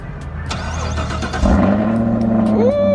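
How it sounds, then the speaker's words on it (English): A 2023 Dodge Challenger GT cold start: starter whir, then the engine catches and settles into a loud, steady idle up close, with a brief higher-pitched whine near the end. "Let's see if we can get a cold start before we slide on up out of here."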